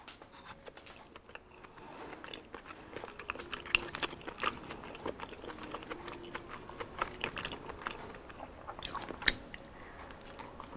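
Someone bites into crunchy Filipino street food and chews steadily, with close, crisp crunching and smacking mouth sounds repeating throughout, with no talk.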